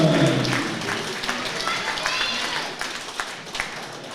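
Audience applause fills a hall at a junior boxing championship, a steady broadband patter that holds throughout while an announcer's voice rises over it.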